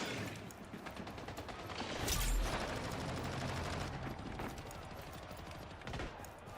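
A plasma gun fires in the Splitgate 2 arena shooter as a rapid automatic burst of sharp, closely spaced shots with a heavier thump midway, continuous and fairly loud with no talking.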